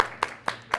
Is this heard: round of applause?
yes